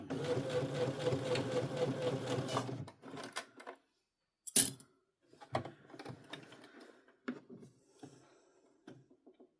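A Brother CS7000X sewing machine stitches a bucket hat in a close, rapid, even run for a few seconds, then stops, leaving scattered handling clicks and taps.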